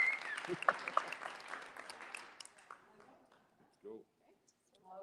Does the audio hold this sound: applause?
yes